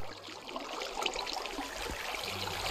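Steady broadband rush of flowing water in Minecraft, a continuous even wash filling the whole clip with no voices over it.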